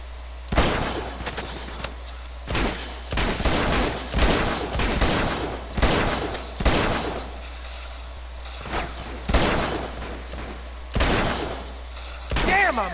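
Gunfire from the video game Uncharted 2: Among Thieves, set in Borneo, rings out as a long run of loud, sharp shots, some in quick clusters and some spaced a second or more apart, close and punchy throughout.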